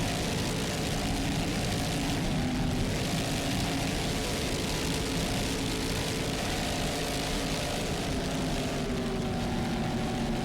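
Racing powerboat with twin 800-horsepower Mercury inboard engines, driven in a Super V race: a steady, loud, continuous engine roar from start to finish with no breaks and no talking.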